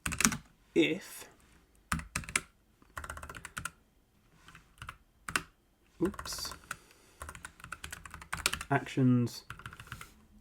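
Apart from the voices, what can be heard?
typing code on a computer keyboard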